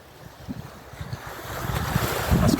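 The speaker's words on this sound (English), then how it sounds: "Hoping you're getting the therapeutic waves on this recording." Waves wash in at a cove in Ibiza, sounding as soft, low surges that build steadily in loudness toward the end, with a light wind rush and no voices.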